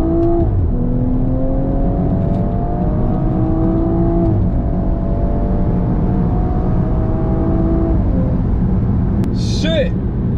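A BMW 340i F30 with a Bootmod3 stage 1 tune pulls hard under acceleration, its engine drone climbing steadily in pitch, then dropping briefly as it shifts near the end, heard loud and continuous from inside the car.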